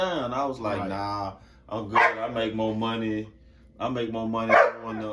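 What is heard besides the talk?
dog barking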